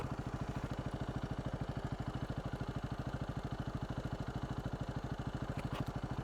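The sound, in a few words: dirt bike engine climbing a hill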